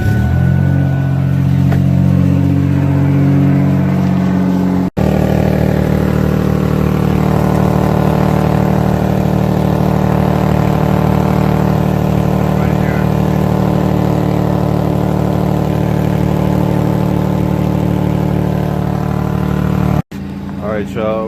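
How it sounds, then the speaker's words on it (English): The engine of a 1999 Ford Taurus with an exhaust leak runs loud and steady, its rough, droning rumble held close to the microphone, briefly cut off twice. "Exhaust leak."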